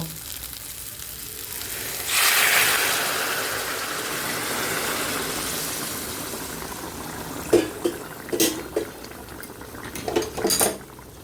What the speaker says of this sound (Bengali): তরকারিটা গরম জল দিয়েছি, একদম সঙ্গে সঙ্গে ফুটে গেছে।